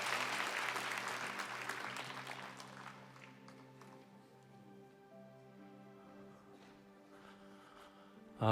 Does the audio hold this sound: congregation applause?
yes